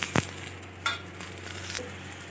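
A chana dal paratha fries in ghee on a pan with a faint, steady sizzle, with a couple of soft scrapes and taps of a spatula, quiet and close.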